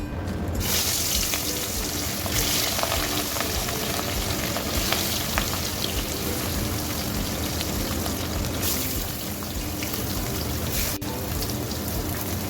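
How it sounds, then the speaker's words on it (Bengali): Fish sliding one by one into hot oil in a wok, four spoons of oil heated well, giving a steady loud sizzle and crackle throughout, with occasional clinks of utensils and no talk. "এখন আমি একে একে মাছগুলো ছেড়ে দেবো।"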